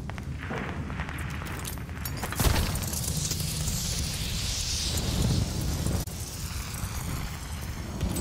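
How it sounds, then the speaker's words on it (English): Glide bomb explosions in a war video game, two heavy booming blasts under a constant roar of battlefield noise and wind, the first a little past two seconds in and a second, sharper hit near the six-second mark. "Glide bomb on the way."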